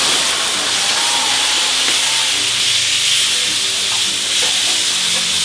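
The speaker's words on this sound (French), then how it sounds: "Et on flambe." Steak being flambéed with cognac in a pan, a steady loud hiss and sizzle of searing meat and burning alcohol with faint scraping stirs throughout.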